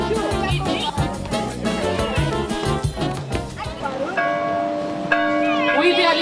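A church bell rings loudly in repeated strikes, its bright metallic tones overlapping and then settling into long, sustained humming overtones as the strikes fade.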